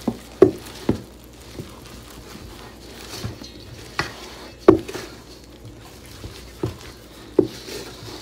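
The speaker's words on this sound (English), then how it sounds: "just going ahead and giving that a quick stir" Bread dough with flour being stirred in a bowl for French bread: soft, irregular thumps and pats, close and quiet, spaced about a second apart, with no talk.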